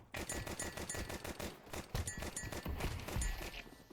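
Rapid bursts of automatic gunfire from Counter-Strike 2, a steady run of sharp shots with brief gaps, fairly quiet and with no talk over it.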